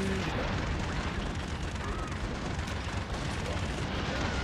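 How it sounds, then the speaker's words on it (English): Airstrike explosions in the video game Broforce, a dense continuous barrage of booms and bursts piled into a loud, chaotic roar throughout. "I don't like these airstrikes."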